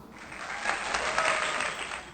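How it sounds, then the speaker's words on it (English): Clapping sound effect of steady applause from a group, a dense even patter lasting a couple of seconds at moderate level with no talk over it. "I really hope I found like the clapping sound for that part of the video"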